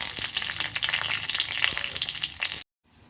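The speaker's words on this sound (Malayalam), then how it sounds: "നമ്മുടെ കടുക് വറുത്തത് നമ്മളിതിലേക്ക് ഒഴിക്കുകയാണ്" Hot tempering of mustard seeds, dried red chillies, curry leaves and a little chilli powder poured into a dal palak curry, giving a dense, loud, crackling sizzle that cuts off abruptly into near silence.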